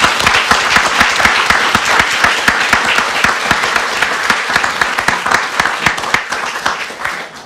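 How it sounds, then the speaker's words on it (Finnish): A forum audience gives a round of loud, energetic applause for the panelists, many hands clapping close and full before the clapping thins slightly toward the end. "Sopisiko aplodikierros panelisteille?"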